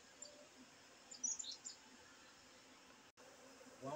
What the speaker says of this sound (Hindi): वो मधुमक्खी नया नया घर बसेरा कर रही है।